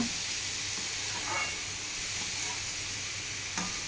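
Tomatoes for tomato upkari hit a hot frying pan, giving a steady broadband sizzle and hiss with a couple of brief stirring clatters throughout.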